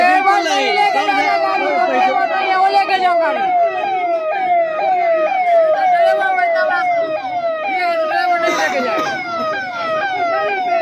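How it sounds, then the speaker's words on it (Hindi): A police vehicle siren wails continuously in rapid, repeating up-and-down sweeps, loud and close, sounding through a crowded street where the public blocks the road, with voices mixed underneath. "पुलिस प्रशासन जो जिस तरह से वो अपना सायरन बजा करके निकलना चाह रहे हैं"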